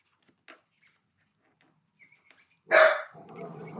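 A dog barks at passing cars, giving one loud, sharp bark followed by a rougher, lower growling sound, with faint scattered noises before it in an otherwise quiet room.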